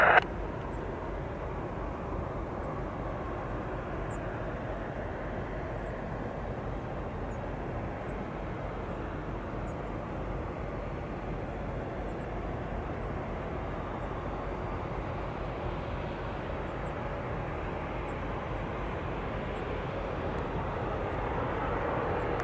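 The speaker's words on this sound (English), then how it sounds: "there's our Cessna" A Cessna light aircraft at Kelowna Airport in British Columbia gives a steady, broad engine drone that holds level for the whole stretch and swells slightly near the end, with no talking over it.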